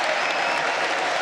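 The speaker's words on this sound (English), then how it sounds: "Oh, the crowd goes nuts." A crowd at the Democratic National Convention roars with cheering and sustained applause, a dense, loud wall of clapping and shouting that fills the whole moment without pause.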